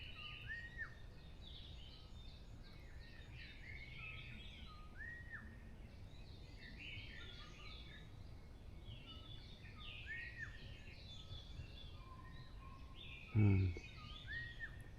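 Birds singing in a Korean forest, repeated high chirps and whistled calls from several birds at moderate distance over quiet ambience, with one brief thump near the end.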